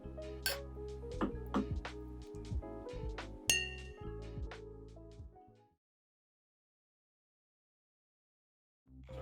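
Glasses clink repeatedly in a bright cluster during a cocktail toast, with several sharp pings over about five seconds, then silence.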